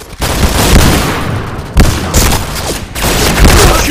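Rapid bursts of P90 submachine gun fire in the shooter game Point Blank, loud and sustained with brief pauses between volleys, the shots dense and overlapping.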